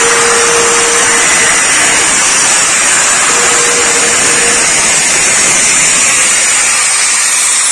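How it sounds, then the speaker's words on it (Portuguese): A loud electric sander drones steadily with a broad, hissing whir, running continuously without pause and close by. "Eu dou primeiro esse passo com a lixadeira aqui."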